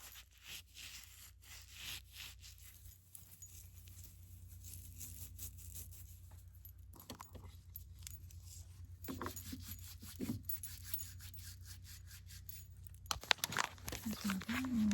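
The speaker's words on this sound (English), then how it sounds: "all you do is you just rub it into your hair" Olaplex hair product is rubbed into hair with the hands, giving soft, close, intermittent rubbing and rasping textures at low volume, with a brief faint tone near the end.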